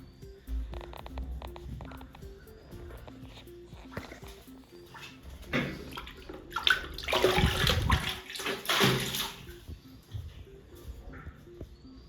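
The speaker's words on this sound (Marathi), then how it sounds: "सर्वात आधी याला पाणी घालूया" Water gushes and splashes onto a young curry leaf plant for a few seconds, with a dog whimpering faintly before and during the pour.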